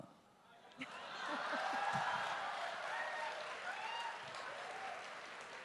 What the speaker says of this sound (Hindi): देखिए तालियां भी बज रही हैं